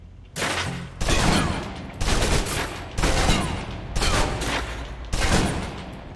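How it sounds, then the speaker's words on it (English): A submachine gun in the Alpha Protocol video game fires six loud, evenly spaced bursts of about a second each, separated by short pauses, close and without voices. "Now, let's move on to the submachine gun. Now let's empty the clip."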